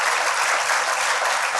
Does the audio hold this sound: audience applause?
yes